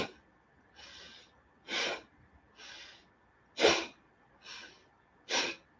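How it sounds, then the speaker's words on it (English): Seven sharp, forceful nasal exhalations during a seated chair-yoga breathing exercise, spaced roughly a second apart. Some bursts are stronger, others softer, and they are heard close and alone against a quiet room. "force the air out through the nose forcefully"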